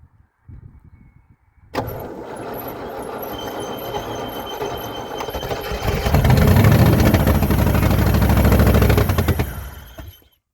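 Range Rover Classic pickup with a V8, parked for over 20 years, cranks and fires after a short pause, then settles into a loud, steady idle that swells and fades near the end.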